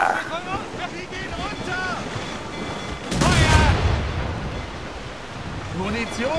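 Ship cannons fire in Assassin's Creed Rogue: a single sharp booming burst cuts through constant wind and crashing waves midway, with game chatter around it.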